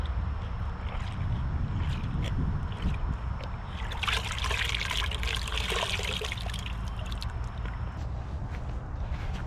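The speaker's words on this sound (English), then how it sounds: "I'm going to bring this to the water bucket and dunk it once again" A motorcycle air filter from a KX125 is plunged into a water bucket, giving sustained sloshing and splashing with a burst of busier churning midway, close and fairly loud.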